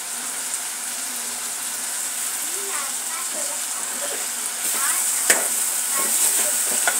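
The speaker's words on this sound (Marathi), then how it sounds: "चांगल्या पद्धतीने ढवळून घ्यायची आहे।" Fresh coriander is stirred through a dish frying in a pan, with a steady sizzle, spoon scrapes and soft clatter that grow louder toward the end. Faint talk sits in the background.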